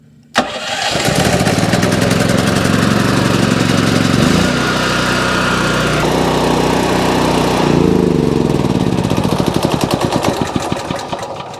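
An electric-start gas generator cranks with a sudden burst, catches and runs at a loud, steady engine drone that shifts pitch slightly as it settles, close by with no talking.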